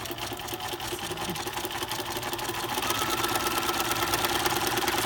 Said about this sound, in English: So now I am going to then continue to sew forward.